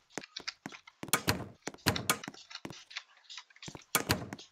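A house door in the Roblox video game unlocking and swinging open: a series of hollow thunks and clicks in separate bursts, loud and close, with quiet gaps between them.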